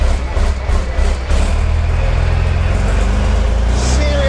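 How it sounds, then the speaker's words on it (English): Big show truck engine with four turbochargers at a truck festival, a loud steady low roar with airy turbo hiss over it, close by and continuous, with some choppier pulsing in the first second. "Four turbochargers whistling away."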